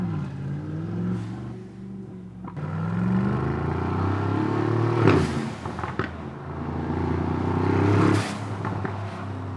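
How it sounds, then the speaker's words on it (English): A Brabus B700 based on a Mercedes-AMG drives by with an engine note that rises and falls through gear changes, and brief hissing bursts from the blow-off valves come through near five and eight seconds. "when we're driving, I want to see if you guys can hear the blow-off valves actually work"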